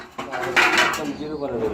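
Pigeons, including black Lakka pigeons and chicks, coo and rustle at close range, with a low throaty cooing under someone talking.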